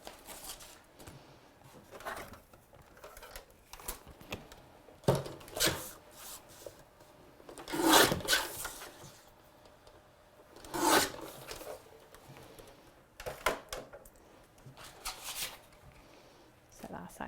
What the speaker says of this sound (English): So I'm just going to quickly pop out these bits